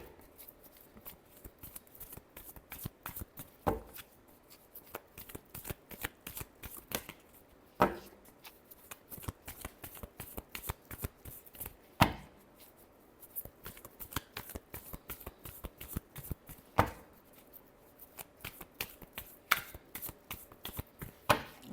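Tarot cards are shuffled close up in a quiet room, giving repeated soft riffling bursts broken by sharper slaps every few seconds as the deck is squared, continuing steadily throughout.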